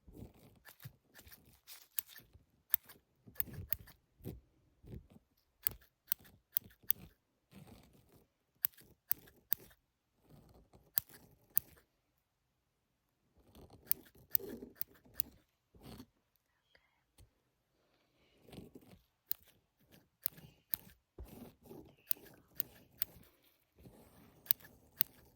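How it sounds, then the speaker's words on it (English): Small scissors trimming eyebrows in close-up ASMR, making sharp, crisp snips in irregular clusters with quiet pauses between, alongside soft whispered talk. "do some little brow trims"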